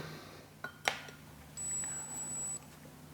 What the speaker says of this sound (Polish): Fajnie pika alarm, patrzcie na aplikacji.